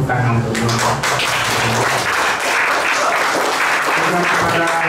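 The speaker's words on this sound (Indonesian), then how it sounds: "Mari kita tepuk tangan untuk mereka." Loud applause for the sisters at a thanksgiving mass marking the anniversary of an orphanage and foundation, vigorous clapping close by, mixed with voices and tonal sounds underneath.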